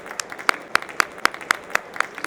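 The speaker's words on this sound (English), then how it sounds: "May I have a round of applause," Sparse applause at a conference session, a handful of distinct, evenly spaced claps from a small audience, roughly four per second, close and crisp with no talking.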